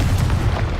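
A Confringo spell explosion in the video game Hogwarts Legacy, a brief, dense, low booming burst that fills the moment with rumbling energy.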